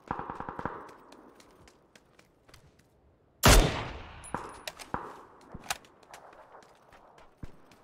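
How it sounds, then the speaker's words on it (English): Gunfire in the battle royale video game PUBG: one loud, sharp burst stands out amid scattered lighter clicks and distant shots. "They're shooting at me out here."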